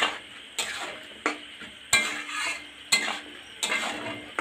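Potatoes with spices being stirred and sautéed in a pan for ghugni in a village kitchen, a spoon scraping in repeated strokes roughly every second over a soft sizzle, close and alone.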